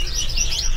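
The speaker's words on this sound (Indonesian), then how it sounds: "Nah, ini untuk burung tepus lurik yang besar ini mas ya." A large tepus lurik bird at a bird-market stall gives a short burst of high, rapid chirping, close and clear with no talk.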